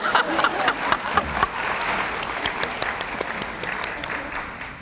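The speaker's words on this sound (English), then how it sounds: "Anybody want to clap for her?" A town hall panel audience claps in a moderate burst of applause, fairly close and steady, tapering slightly toward the end.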